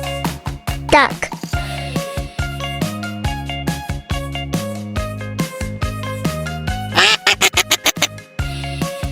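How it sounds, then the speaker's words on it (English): Ducks quack loudly in repeated bursts, several calls in quick succession with brief gaps between them, close and clear, over a bright musical backing. "Ducks are swimming in the water."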